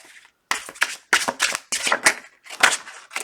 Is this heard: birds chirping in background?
no